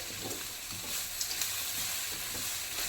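Moringa leaves sizzling and being stirred in a hot pan, a steady close frying hiss with soft scraping of the stir, no voices.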